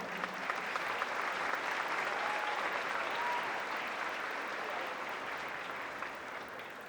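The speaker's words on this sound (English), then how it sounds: "Let's have a round of applause for all of them." An audience at a fourth grade choral festival for McAllen ISD students gives a steady round of applause, sustained and even throughout before slowly tapering toward the end.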